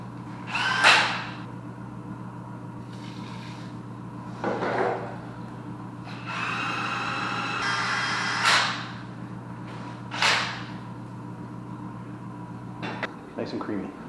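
Power drill mixing drywall mud in a bucket, heard in several short bursts of whirring separated by pauses, with someone talking and a steady background hum throughout.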